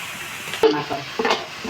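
Chopped helencha greens sizzling in a frying pan as they are stirred, with a steady hiss broken by two short scraping strokes close by.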